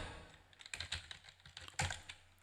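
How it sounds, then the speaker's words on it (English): A footnote is typed on a computer keyboard in quick, irregular clacks and a few firmer key hits, close but quiet, with no talking. "And now type the footnote."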